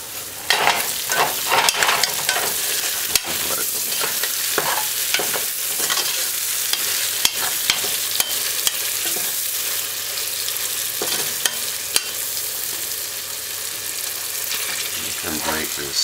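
Curried tripe and beans cook in a pot, a steady close sizzle and bubbling with repeated clicks and scrapes of stirring throughout, no talking.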